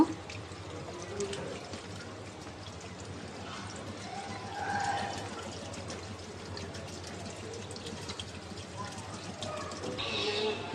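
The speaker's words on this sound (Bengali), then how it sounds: "তা এখন পরিমাণ মতো পানি দিয়ে দিব" Water is poured into a cooking pot of mixed spices, chopped onion and coriander for nehari, a soft, steady running pour heard fairly faintly for several seconds.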